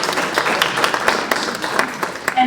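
Audience applause for a poetry contestant at a regional Poetry Out Loud finals, a steady wash of many hands clapping at moderate volume throughout, with a voice briefly audible near the end.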